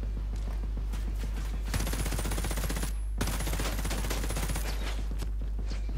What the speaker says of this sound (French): La mitrailleuse.